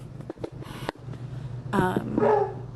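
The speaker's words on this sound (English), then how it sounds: "And then I got this dog barking at me." A dog indoors lets out a few close barks and yips, with short whimpering sounds between them and a louder pair of barks near the end, no talking.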